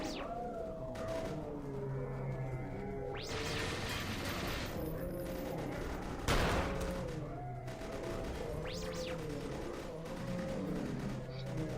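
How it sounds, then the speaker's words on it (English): Turret gunfire in the sci-fi shooter game EYE Divine Cybermancy, a dense barrage of shots and mechanical clatter over a busy game soundscape, with one sharper burst standing out midway. "Luckily, that turret seems to be actually doing its job for once"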